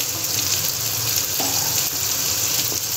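Bottle gourd kofta curry fries in a pan, giving a steady, close hiss of sizzling with occasional faint clinks.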